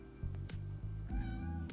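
A house cat meows close by in a short, quiet burst of two or three drawn-out, wavering cries over a low background hum.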